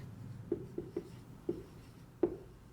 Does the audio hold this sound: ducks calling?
no